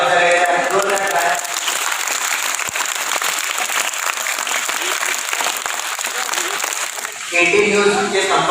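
Loud audience applause greeting a guest at a felicitation event in an ashram, dense steady clapping for several seconds, framed by amplified talk over a PA at the start and end.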